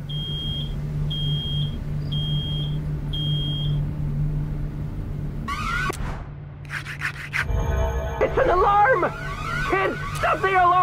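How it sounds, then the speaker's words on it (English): An alarm beeps in the video game Road 96: four short, evenly spaced high electronic beeps over a low hum, then clattering noises and excited voices as people talk over it. "Something's beeping."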